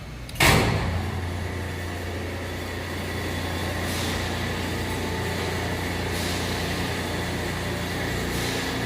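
The heavy door of a Schoeller Bleckmann autoclave shuts with a sharp thud near the start. A steady mechanical hum follows, with faint clicks and hiss running through the rest of the clip.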